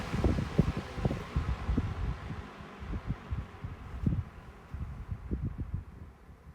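GEC Magnet and Lloydtron 16-inch desk fans winding down together after being switched off, a steady low whir and rustle of spinning blades with an uneven, pulsing texture that continues throughout without speech.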